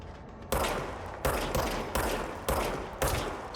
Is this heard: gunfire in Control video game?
yes